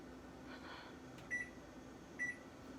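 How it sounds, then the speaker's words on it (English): Microwave oven running while heating oatmeal, a faint steady hum with two short high beeps about a second apart, no voices. "As you can see, my microwave."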